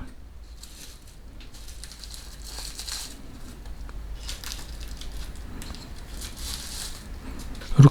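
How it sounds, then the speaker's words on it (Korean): Plastic wrap crinkles and crackles as it is peeled off a Sentinel Genesic GaoGaiGar robot figure with sharp claws, in a steady run of close, papery rustling bursts with no talk. "그리고 비닐을 이렇게 한번 다 제거를 해보도록 하겠습니다"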